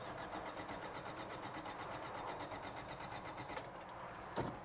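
A Toyota truck engine cranks steadily as it tries to start, with a fast rhythmic starter churn, faint and continuous throughout, broken by a couple of brief sharp clicks near the end.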